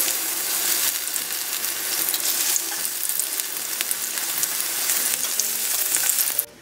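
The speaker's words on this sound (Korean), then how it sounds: "이렇게 바삭바삭하게 소리 날 때까지 앞뒤로 이렇게 튀겨주시면 돼요." Toon shoot tempura deep-frying in hot oil, a steady bright crackling sizzle that runs continuously and close with no talk over it.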